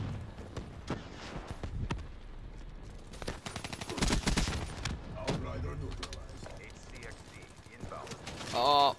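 Gunfire in the Call of Duty Black Ops 3 online match, with scattered bursts of automatic and single shots at varying distances amid game effects, ending in a loud close burst.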